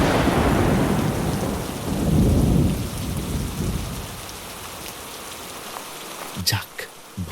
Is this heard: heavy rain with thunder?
yes